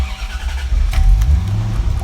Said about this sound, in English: So started that car up.